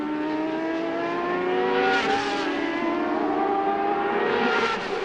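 A CART race car at speed at Portland in 1999, its high-pitched engine whine holding steady and loud with slight pitch swells as it sweeps through the corners, with no talk.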